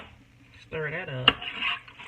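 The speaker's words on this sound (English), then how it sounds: "Stir that up." Vegetable soup with beef and canned carrots is stirred in a skillet: a utensil scrapes and knocks against the pan, with one sharp metallic clank, while a voice talks over it.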